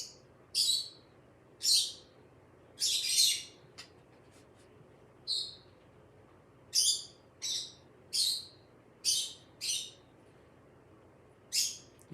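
Birds chirp in short, bright bursts of tweets spaced a second or two apart against a quiet background, with no talking.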